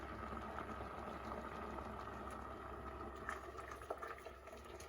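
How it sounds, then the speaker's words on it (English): Mulled wine with star anise boiling in a pot in a kitchen, a faint, steady bubbling simmer with occasional small pops. "Have that boiling away."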